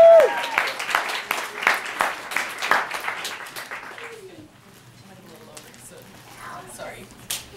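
An audience at a Calgary Expo convention panel breaks into a loud round of clapping that fades out after a few seconds, leaving quiet room noise.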